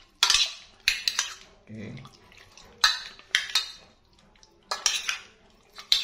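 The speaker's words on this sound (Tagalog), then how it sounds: "Mix lang para mag-even yung distribution ng marinating mix natin na ginawa." Utensils clinking and scraping against a bowl while a marinade is mixed, in irregular bursts with quiet gaps, and a brief spoken word from a person.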